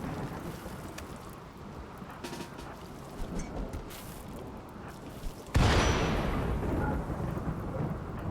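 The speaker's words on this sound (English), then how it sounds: "And Devin just got hit by lightning." Lightning strikes during a storm in the colony game RimWorld: steady rain gives way to a sudden loud thunder crack that rolls on as a sustained rumble over the downpour.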